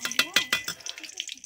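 Two tablespoons of ghee hitting hot oil in a kadai, a few bright clattering sizzles and utensil taps in quick succession, then the hiss fading quickly.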